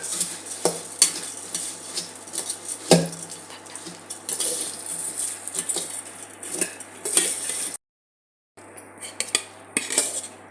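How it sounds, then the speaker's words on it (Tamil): A spoon stirs bhel puri masala mix in a bowl, giving repeated close scraping and clinking against the dish, with a brief silent gap near the end. "அது ஒரு 2 கரண்டி போட்டு நல்லா மிக்ஸ் பண்ணிக்கலாம்"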